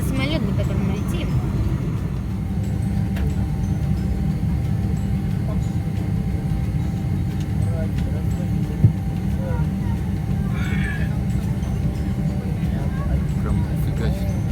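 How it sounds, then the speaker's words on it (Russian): A steady, loud low drone fills a passenger airliner cabin in flight, constant throughout, with a voice faintly audible over the engine hum. "Это самолет, на котором мы летим."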